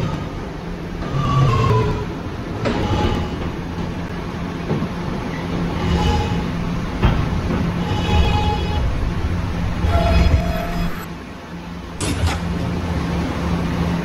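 An R211 subway train rumbles along the tracks with a steady low roar, occasional squeals and clanks, and brief tonal chimes.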